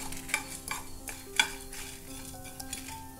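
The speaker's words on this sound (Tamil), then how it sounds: "இதை கொஞ்சம் லோ ஃப்ளேமில் வச்சு அப்படியே லைட்டாக வறுத்து விட்டுருங்க" Coriander seeds dry-roasting in a pan over a low flame for Chettinad mutton chukka: a soft, faint sizzle with a few light scrapes and clinks of stirring, close and quiet, with no talk.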